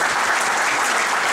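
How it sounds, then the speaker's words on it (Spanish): Sustained applause from an audience at a community gathering in Cuetzalan, Puebla, a dense steady wash of clapping that stays even and loud throughout without pause. "Un aplauso para todos ustedes."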